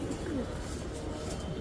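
Dyed flying pigeons coo in soft, low, rolling calls nearby in a busy pigeon market, with a faint chirp and rustling in the background.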